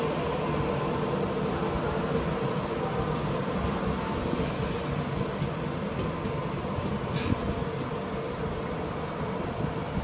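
A train passes straight through a platform at Berwick upon Tweed station, a steady, loud rumble of wheels and rail noise that holds for the whole stretch.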